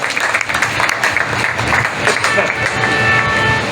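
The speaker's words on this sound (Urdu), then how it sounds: "آپ کی بھرپور تالیوں میں پروفیسر سعد اللہ شاہ" An audience claps loudly and steadily at an Independence Day poetry recital, with dense applause filling the whole stretch and a voice faintly audible beneath it.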